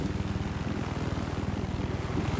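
A helicopter flies in a Battlefield 4 match on the Siege of Shanghai map, making a steady, loud, throbbing rotor drone that runs through the whole moment.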